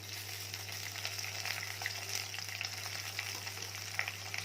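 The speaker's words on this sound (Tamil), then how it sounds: "போட்டுட்டு இது எல்லாத்தையும் நல்லா வதக்கி விட்டுடலாம்." Green chilies and curry leaves sauté in a brinjal spicy gravy base, a steady, close sizzling hiss with light stirring scrapes and small pops over a low background hum.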